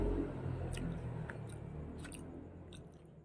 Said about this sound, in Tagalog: So tikman natin tong chicharong bulaklak.